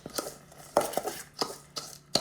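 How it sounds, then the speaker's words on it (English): Minced garlic is mixed into a wet artichoke stuffing in a bowl, with about six distinct clinking, scraping strokes of a utensil against the dish at an uneven rhythm. "Mix that in nicely."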